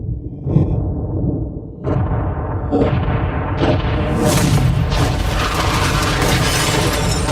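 A yacht is blown up, with a heavy booming blast and crashing, shattering debris that builds into a loud, sustained roar lasting several seconds, with a few sharp bursts at the start.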